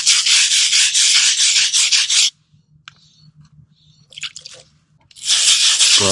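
Stiff scrubbing of a stain on painted concrete, two loud bursts of rapid brushing strokes close up, with a short quieter gap of light taps and rubbing between them.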